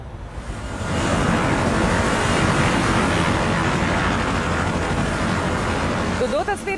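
An Air India airplane taking off, a loud, broad jet roar that swells in after a second and holds steady, with a voice briefly heard at the end.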